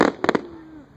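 Fireworks burst at a backyard Independence Day show, a quick cluster of three sharp near pops followed by a thin fading whistle.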